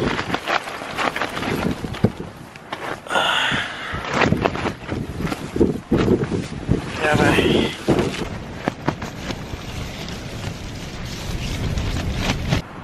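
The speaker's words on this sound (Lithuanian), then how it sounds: "O dabar vėjas yra tiesiai nuo upės" Gusty wind blows straight off a river at a mountain-view campsite at night, buffeting the microphone in uneven bursts and swells, with rustling and thumps mixed in and a voice talking over parts of it.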